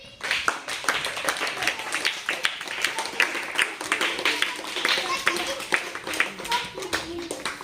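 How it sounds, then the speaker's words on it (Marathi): A primary school class claps loudly for a child, a steady run of brisk, overlapping hand claps lasting several seconds with an adult and children's voices speaking over it. "छान स्वरासाठी जोरात एकदा टाळ्या होऊन जाऊ द्या"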